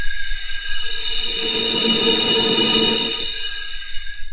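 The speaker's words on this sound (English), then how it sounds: "Okay, so you heard those leaks." A steady hiss of compressed air leaking from an engine cylinder during a leak-down test, swelling louder in the middle and easing off, heard up close with a high whine above it.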